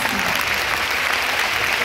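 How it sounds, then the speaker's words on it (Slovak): A large audience at a corporate gathering claps loudly and continuously, a dense even roar of hands filling the room with no speech on top. "nech náš veľký potlesk patrí práve vám"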